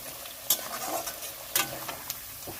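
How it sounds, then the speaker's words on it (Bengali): Garlic and ginger fry in a pan with onion and peanuts, sending up a steady close sizzle with stirring scrapes and two sharp clatters of the utensil against the pan. "দেখুন আদা রসুনটাও খুব ভালো মতো ভাজা হয়ে গেছে।"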